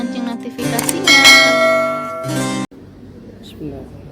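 A short bell-like notification chime rings out in bright ringing tones for about two and a half seconds, then cuts off abruptly, leaving quiet room sound.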